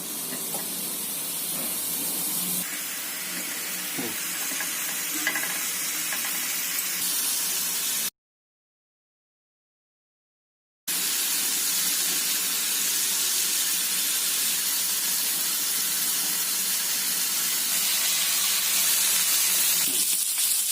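Paneer tikka frying in a little oil on the stove, a steady loud hiss of sizzling that runs on and on, cut by a few seconds of silence before resuming, with no voices.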